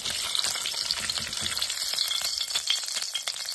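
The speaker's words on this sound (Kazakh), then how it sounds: "Екіншісінде дәл солай қуырып аламыз" Brizol frying in a pan, a steady close sizzle and crackle with occasional stirring scrapes, continuous and alone.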